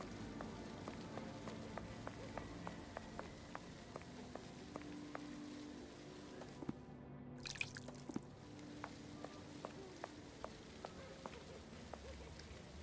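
Water dripping in the Sherlock Holmes: The Awakened video game, a regular series of small drips over a low ambient hum, faint and steady, with a brief louder burst midway.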